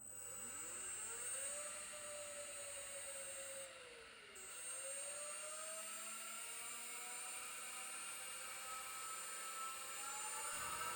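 A 3D printed electric motor for a Predator 212 series hybrid powertrain, driven at 26 volts, spins up with a rising whine that dips around four seconds before climbing again into a steady, loud high-pitched whir with no talking.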